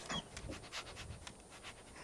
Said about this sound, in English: we'll meet the dog here